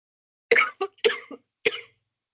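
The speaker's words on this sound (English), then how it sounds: "I'm so sorry that you have a cough." A person coughs four times in quick, dry bursts, close and clear against silence.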